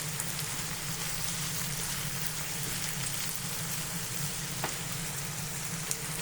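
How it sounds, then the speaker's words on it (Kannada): Fresh curry leaves fry in hot oil in a pan, giving a soft, steady sizzle with faint crackles and no talking. "ಹಸಿ ಕರ್ಬೇವು ಹಾಕಿ ಚೆನ್ನಾಗಿ ಫ್ರೈ ಮಾಡಬೇಕು"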